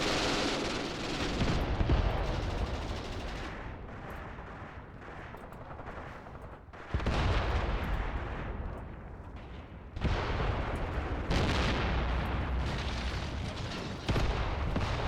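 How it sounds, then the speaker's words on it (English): Heavy artillery barrage in the war game Graviteam Tactics, with continuous rumbling blasts and booming impacts building into several loud surges, layered over battlefield noise with no speech. "Looks like they're calling in another barrage on me."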